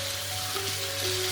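A dense, even crackle and hiss rises from chicken pieces deep frying in oil, heard up close, unbroken and fairly quiet, over a faint steady hum.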